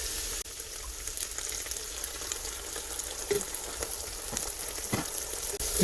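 Onions and tomato paste fry in a pan for jollof rice, a steady broadband sizzle running throughout with a few sharp clinks and scrapes of stirring, close and moderately loud with no talking.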